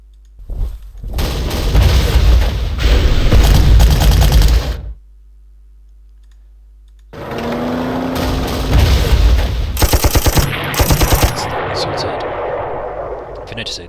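Heavy gunfire and artillery booms from a war strategy video game roar in dense bursts, break off into near silence, then return with rapid sharp shots and blasts.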